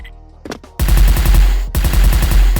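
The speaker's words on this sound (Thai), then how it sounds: "ขอนั่งยิงหน่อย" Rapid automatic gunfire from a cat-themed gun in the shooter game SF blasts loud and close, a fast rhythmic burst that briefly cuts out, then resumes.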